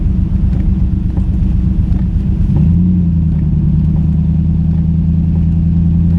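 Carbureted 4.0-litre V8 of a 1984 TVR Wild Wedge pulling hard from inside the car on a wet winter road, a loud continuous engine drone that steadies into a sustained high-revving tone over road and wind rumble.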